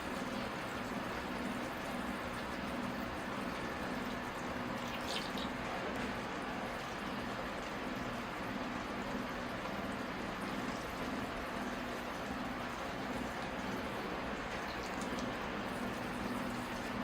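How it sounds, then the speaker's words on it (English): Water poured from above onto the soil of a Ginseng Ficus bonsai, a steady broadband trickle and drip of liquid soaking and draining through the pot, continuous and close with no talking. "All right, here I go with the water."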